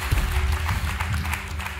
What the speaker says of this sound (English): Give God a hand clap because we love him.